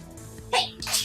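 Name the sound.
sneeze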